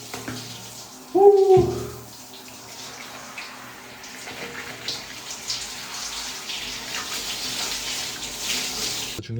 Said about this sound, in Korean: 샤워 중에 최고의 샤워는 공항이랑 이런 데 쩔어 있다가 음, 도착해서 이렇게 하는 샤워가 최고예요